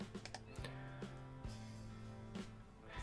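A computer keyboard typed on in a short burst, a few close, soft key clicks spaced unevenly over a steady low electrical hum.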